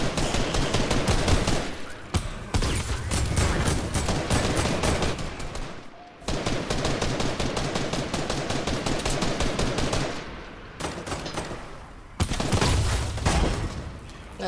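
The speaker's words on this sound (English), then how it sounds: "I'm being shot at. Guys, lay off of the shooting at me." Rapid gunfire aimed at the player in Fortnite, dense loud bursts of automatic shots that run almost continuously with brief pauses.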